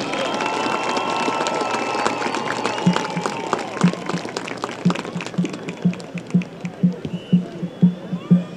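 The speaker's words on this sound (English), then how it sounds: "Everyone, please give a round of applause for all of our 2012 homecoming queens and homecoming courts." At a college football homecoming game, a crowd in the stands applauds the homecoming queens and courts with broad, steady clapping and cheering. Rhythmic thumps come through more strongly toward the end.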